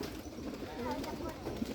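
Domestic pigeons raised in Rajshahi during winter make soft, low coos at close range, with voices talking nearby.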